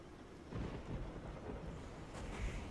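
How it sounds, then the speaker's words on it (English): A faint thunderstorm in the Project Zomboid video game, low distant rumbles of thunder rolling over soft rain with no voices. "it certainly sounds like there's a bit of a storm on the brew there"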